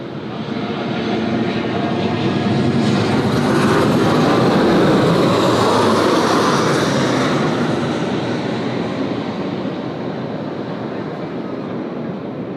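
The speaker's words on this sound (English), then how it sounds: "Expedite, 16 right, cleared for immediate takeoff" An airliner takes off from runway 16 right at Sydney Airport. Its loud, broad jet roar builds, peaks midway, then slowly eases off, with no break in the sound.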